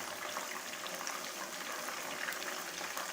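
Whole chargha chicken frying in a pan, a soft continuous bubbling sizzle of oil heard close and steady without talk.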